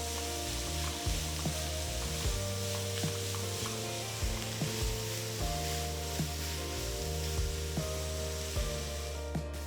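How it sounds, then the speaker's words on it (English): Five finely chopped onions sautéing in hot oil in a kadai, a steady close sizzle with occasional stirring clinks, partly under a repeating low musical background, no talk. "Saute the onions till they turn to a lovely golden color."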